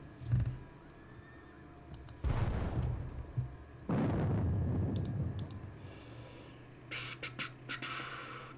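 Artillery guns firing in a Battle of Bautzen war game: two heavy booming blasts about two seconds apart, each rolling off over a low rumble, then scattered clicks and ticks.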